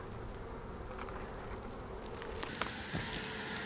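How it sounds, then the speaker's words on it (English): Honey bees fly around an open hive during an inspection of a colony suspected of chronic bee paralysis virus, giving a steady, soft insect buzz with a few brief louder passes near the end. "There's a few bees flying around here."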